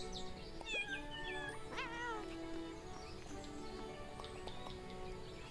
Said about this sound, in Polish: O, można kotka pogłaskać.